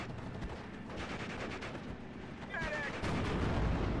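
Gunfire in the World War II strategy game Steel Division: Normandy 44, a dense crackle of distant shots and booms under ongoing battle noise, with a heavier rumbling swell in the last second.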